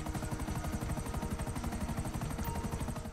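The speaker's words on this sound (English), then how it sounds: "That's an enemy chopper." Enemy helicopter in the video game GTA V Online, its rotor thumping in a fast, steady chop that stays loud and close throughout with no talk over it.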